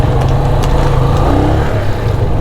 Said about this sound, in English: Traffic with some horses.